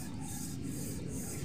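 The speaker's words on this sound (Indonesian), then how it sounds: "Ini dimulai amplas. Kerjaan serius 240." Cylinder head of a Gran Max, Avanza or Xenia being lapped flat by hand on a sheet of glass with 240-grit sandpaper, giving a steady close abrasive rubbing with a few rhythmic strokes, no talk.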